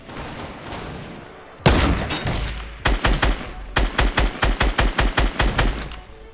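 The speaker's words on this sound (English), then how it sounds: "Are they shooting you?" Rapid bursts of automatic gunfire in the Fortnite battle royale game, starting with a loud blast and then coming as a rhythmic string of close, sharp repeated shots.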